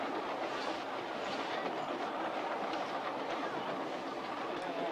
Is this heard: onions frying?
no